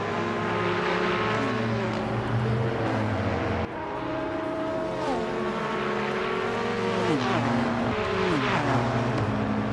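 Several race cars in a video game race roar continuously with layered engine tones that rise and fall through gear shifts, loud and close.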